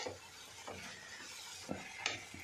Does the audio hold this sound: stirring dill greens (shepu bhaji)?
yes